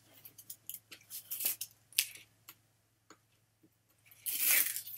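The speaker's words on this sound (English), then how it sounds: "And then let's just peel that backer off." Adhesive backer paper peels away from a folio craft project in a run of close crinkles, crackles and dry tearing, with quiet gaps and then a longer, louder rustling swell at the end.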